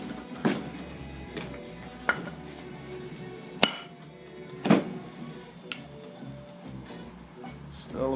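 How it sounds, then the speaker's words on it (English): Engine crankshaft and case on a Honda CR80RB are tapped back into place, giving several sharp, isolated metallic knocks spaced a second or so apart over a quiet background. "Give her a whack one way or another here."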